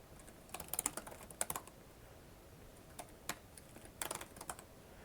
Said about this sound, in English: her keyboard is so messed up, I never know if I'm typing the right thing or not.